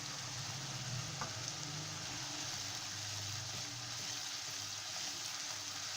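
Cumin seeds frying in oil with onion, ginger and garlic paste for Lahori chickpea curry, a dense, even sizzle holding steady from start to finish with no voices.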